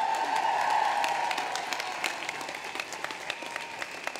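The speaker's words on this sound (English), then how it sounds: "Give yourselves a big round of applause." A room full of people applauding at the unveiling of the Emmeline Pankhurst statue, steady clapping that thins out toward the end into scattered individual claps.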